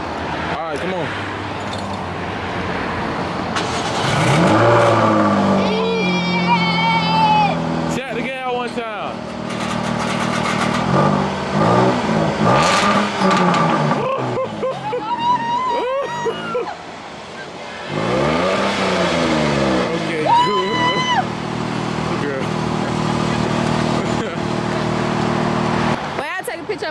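A car engine catches and revs in several rising and falling surges over a steady idle, fairly close, with people talking loudly over it throughout.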